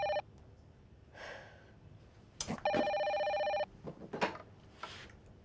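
An old-style telephone rings twice in an Indonesian home, two bright trilling bursts about two seconds apart, with soft breathing and rustling in between and after.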